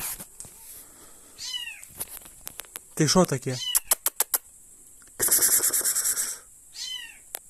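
A cat meowing in hay, several short rising meows spaced across the stretch, close and fairly loud, with a person speaking between and over them.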